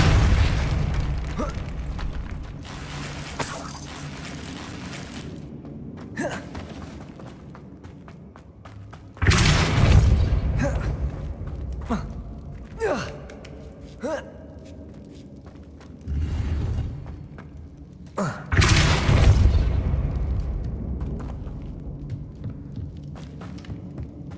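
Magic spell effects crack out as deep booming thumps and bursts, several of them spread apart with quieter creaks and pops in the gaps, loud and close.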